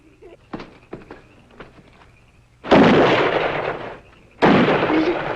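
Gunfire in a vintage comedy sketch set on a bear hunt, heard as two loud, sustained bursts of noisy blast after a few quieter clicks and knocks, each lasting over a second.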